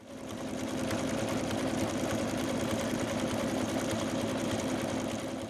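An embroidery machine stitches down belt fabric along a placement line in an in-the-hoop Santa project, a steady, close, continuous mechanical whir and rapid needle clatter running unbroken throughout with no talk.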